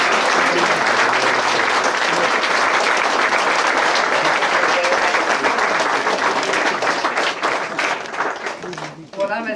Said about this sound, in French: Vous pouvez applaudir, mesdames et messieurs